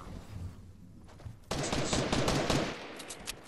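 Rapid bursts of Fortnite gunfire burst in loud and dense after a quieter opening, continuing as repeated sharp cracks.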